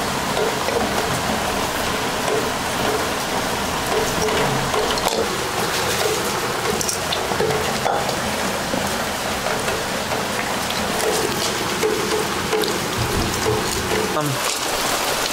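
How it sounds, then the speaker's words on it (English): Heavy rain pours steadily in a yard in Haiti, a dense, constant hiss of drops striking surfaces that stays loud and unbroken throughout. "it's raining outside"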